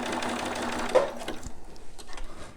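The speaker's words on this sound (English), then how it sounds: "So I'm going to go ahead and just sew it to secure it" A sewing machine stitching a newborn romper, running in short bursts with a steady mechanical whir and pauses between runs.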